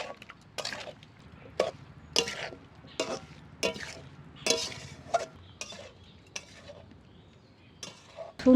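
Raw mango and jackfruit kasundi pickle being mixed by hand or spoon: a steady series of soft, wet squelching and scraping strokes at moderate volume, close and unaccompanied by talk.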